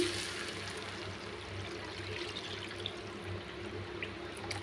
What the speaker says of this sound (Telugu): ఇప్పుడు దీనిలో ఒక హాఫ్ లీటరు వాటర్ వేస్తున్నానండి